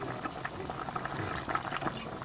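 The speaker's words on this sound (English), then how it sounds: "Oh, it's boiling very well." A pot of chicken with olives boils outdoors in the desert, giving a steady close bubbling and popping texture that runs throughout at moderate loudness with no talk.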